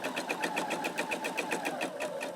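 A sewing machine runs steadily through Christmas tree napkin fabric, its needle ticking in a fast, even rhythm over a low motor hum, close and moderately quiet.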